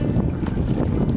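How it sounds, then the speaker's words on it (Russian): Steady wind rush and choppy, whitecapped water surround a sea kayak paddling into a headwind on the Arctic White Sea. The broad noise holds constant throughout, with no voices. "На воде буруны, барашки точнее. Такая умеренное волнение. И, естественно, против ветра."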